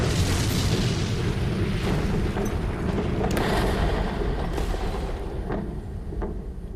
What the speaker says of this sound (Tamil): space X Falcon 9 rocket test ஃபயரின் போது வெடிச்சிடுச்சு